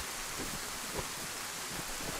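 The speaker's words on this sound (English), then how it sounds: "I can't do nothing with this rain, bro. Can't shut the rain off." Steady, dense rain pours in the video game DayZ, a constant close hiss with faint low rumbling underneath and no voices.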